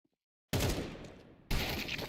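Two sharp, loud gunshots crack out in a video game about a second apart, each with a short fading tail, after a moment of near silence.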